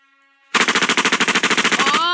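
Machine gun sound effect fired from a radio sound board: a rapid, loud burst of about fifteen shots in quick rhythm, lasting under two seconds, close and alone.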